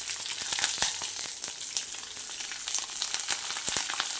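Curry leaves and green chillies fry in hot oil for a masala dosa filling, a steady crackling sizzle with scattered sharp pops close by, with no voices.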